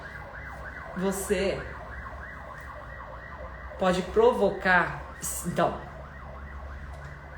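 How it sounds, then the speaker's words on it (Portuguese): A siren wails outside in the street, rising and falling in a few loud swells between quieter stretches, with someone speaking Portuguese over a steady background hum. "passou a sirene aqui, eu não sei se vocês me escutam direito"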